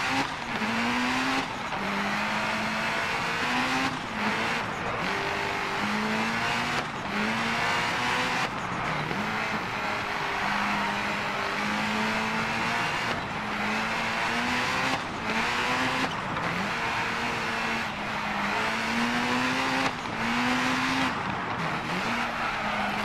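A rally car in the DiRT Rally video game drives hard, its engine revving continuously and shifting up and down through the gears, with tire skids and scrabbling on loose surfaces, loud and up close with no talking.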